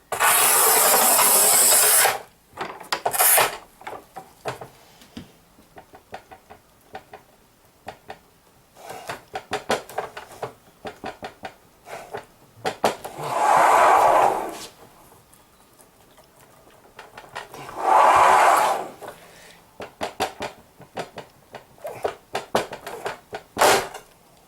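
A manual Haisser 1200 tile cutter scores 11 mm glossy porcelain stoneware, giving several loud rasping scrapes of the wheel across the tile, close by, separated by quieter handling clicks and taps.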